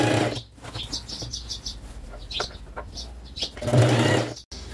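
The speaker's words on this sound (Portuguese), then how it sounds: "E passa a costura agora." A sewing machine stitches a fabric gas-cylinder cover in short, close bursts of rapid whirring, separated by brief pauses, with light clicks and handling noises between runs.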